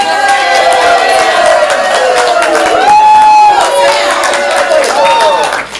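A comedy improv theater audience cheers loudly for its favorite team, a dense, sustained roar of shouts and whoops with clapping mixed in, tailing off at the very end.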